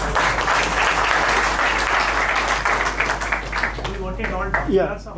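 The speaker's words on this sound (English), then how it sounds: "Have a big round of applause for all of them once again, please." An audience at a business meet-up claps loudly and continuously, with voices talking over the applause as it begins to thin near the end.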